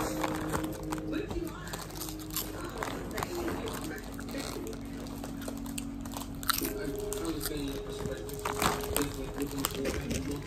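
Crunchy Thai snacks from a snack crate bitten and chewed close up, with crinkling wrapper noises and people talking throughout.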